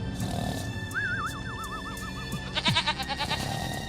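Goats bleat in a quavering, wavering cry, followed by a louder, rapidly trembling bleat, with a soft background hum and no talk.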